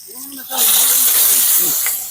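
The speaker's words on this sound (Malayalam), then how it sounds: "അങ്ങനെ പൊരിക്കാം നമുക്ക്" Fish freshly caught from a pond drops into hot oil in a pan and bursts into a loud, steady sizzle that holds for about a second and a half, with a person speaking briefly just before it starts.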